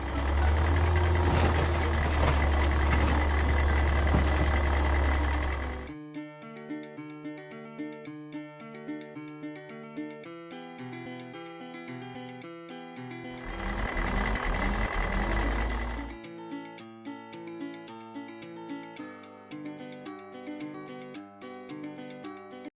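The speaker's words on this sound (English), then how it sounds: "the garbage truck" A toy garbage truck gives off bursts of loud buzzy engine rumble and a repeating electronic reversing beep tune. Stretches of looping tonal beeps fall between the engine noises.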